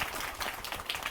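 A crowd clapping hands at a Karuppasamy temple gathering in Puliyarai, Tenkasi district, a brief burst of steady, fairly dense applause at moderate volume with no voices over it.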